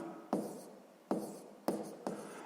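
A pen scratches on paper while writing out the first step of a sixth-grade math solution, in four short, distinct strokes close by and quiet, with no talking.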